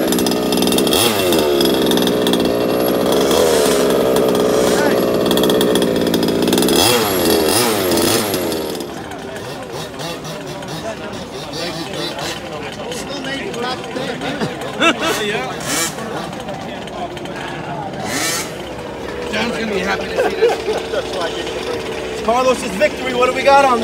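A Primal RC car with a G290 gas engine at a 2019 RC drag racing event, a loud buzzing two-stroke engine drone close by for several seconds, then quieter revs under crowd babble and people talking.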